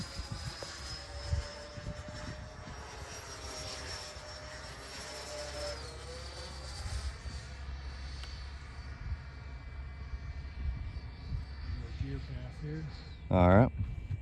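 A Freewing MiG-29 twin 80mm electric ducted-fan RC jet whooshes across the sky at a distance, its turbine whine rising and falling under people talking nearby.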